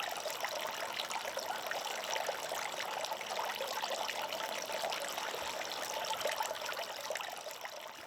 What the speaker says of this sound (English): And here's my other water feature.